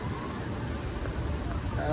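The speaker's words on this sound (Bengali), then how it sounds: "ওই যে পিছনে দেখতেছেন বৃষ্টি হচ্ছে" Steady rain falls in Medina with a soft, even hiss, quiet and continuous throughout.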